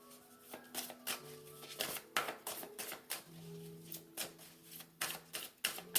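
Tarot cards shuffled and drawn by hand: a steady run of quick papery flicks and taps, close and fairly quiet, with no talking.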